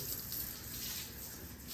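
Water spraying steadily onto a tractor during washing, a continuous faint hiss and splash with no break and no voices.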